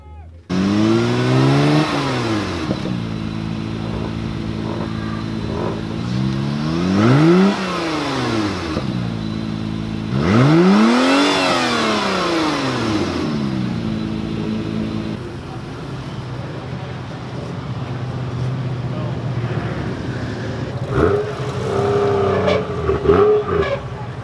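A Mazda 6 engine revs repeatedly at an Arizona car meet, rising and falling in several long, loud pulls close by, with quieter idling and crowd noise between them toward the end.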